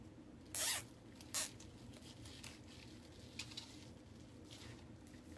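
Two short, sharp ratcheting zips of plastic zip ties being pulled tight while fastening a deco mesh wreath, heard close and alone over a quiet background.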